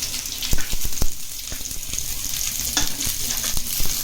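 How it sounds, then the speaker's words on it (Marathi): Onions sizzling in hot oil on a griddle over a gas stove with a constant crackle, broken by irregular sharp pops and spatters; close and fairly loud. "कांदा चांगला लालसर भाजून घ्यायचा आहे।"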